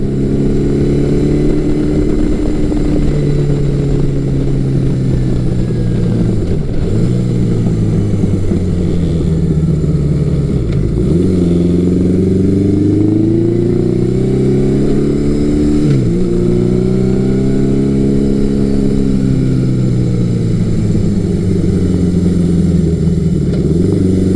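A 1980s Yamaha muscle bike engine pulling hard out of corners, loud and continuous with repeated rising pitch sweeps as it accelerates, dips at each shift or corner entry, no voices.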